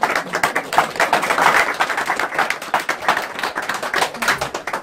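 Applause from a small gathering at a family-visit event as vice president Koray Bey is invited forward, steady dense clapping throughout, fairly close.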